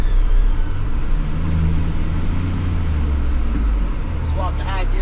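CFMOTO U10 side-by-side engine pulling in high gear at around 5,000 RPM, a steady loud drone with low harmonics rising gently across the clip, recorded from inside the cab with a voice briefly heard near the end.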